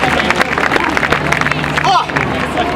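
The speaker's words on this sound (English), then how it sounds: "Give Betty a cheer, she's really good" Theater audience at a live escape-artist comedy show cheering and clapping, a dense steady wash of applause and crowd babble with a voice briefly rising over it.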